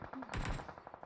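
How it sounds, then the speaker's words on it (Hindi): Gunfire bursts in a video game squad battle, a loud cluster of rapid shots near the middle of a short moment, with faint trailing pops afterward. "क्यों गोलियां पड़ रही है"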